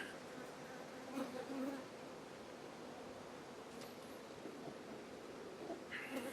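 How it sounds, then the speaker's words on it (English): Honeybees swarm around open beehive frames pulled during queen rearing, a dense, steady buzzing hum that stays close and constant throughout, with a few individual bees flying nearer now and then. "You have so many bees around you, Patrick."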